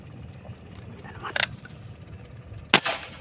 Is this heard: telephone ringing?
no